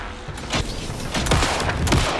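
Rapid bursts of gunfire in Alan Wake 2, several loud sharp shots in quick succession with no talking.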